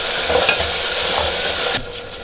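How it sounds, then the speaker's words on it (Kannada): Tomato and curry leaves fry in hot oil with a loud, dense sizzle and light stirring scrapes, then the sound drops abruptly to a quieter hiss for the last half second. "ಈಗ ಒಂದು ಟೊಮೆಟೊ, ಕರಿಬೇವಿನ ಸೊಪ್ಪು ಸ್ವಲ್ಪ, ಇದನ್ನು ಚೆನ್ನಾಗಿ ಎಣ್ಣೆಯಲ್ಲಿ ಫ್ರೈ ಮಾಡಿಕೊಳ್ಳಿ."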